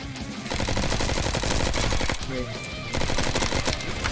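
Rapid automatic gunfire in the Roblox shooter Bad Business, dense bursts of shots rattling almost continuously at close range, loud and unbroken with a brief dip midway.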